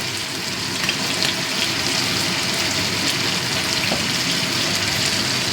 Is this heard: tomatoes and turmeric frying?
yes